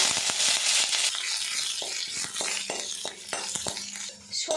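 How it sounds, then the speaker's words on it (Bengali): White cumin, black mustard seeds and curry leaves frying in a little hot oil give a steady, close hiss and crackle, with small pops and spoon scrapes against the pan. "এর মধ্যে হাফ চামচ পরিমাণে সাদা তেল দিয়ে দিলাম এই তেলের মধ্যে দিয়ে দেবো কয়েক দানা সাদা জিরে আর দিয়ে দেবো কয়েক দানা কালো সর্ষে দিয়ে দেবো কয়েকটা কারি পাতা"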